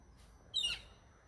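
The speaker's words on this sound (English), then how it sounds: "And I hear another bird." A single short bird call, a brief squawky chirp, faint and somewhat distant against a quiet background.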